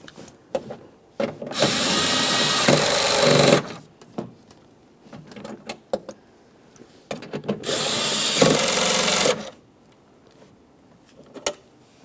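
A power tool tightens the mounting bolts on a rear window regulator in the door of a 2009-2014 Nissan Maxima, two loud whirring bursts of a few seconds each, separated by quieter clicks and handling noises.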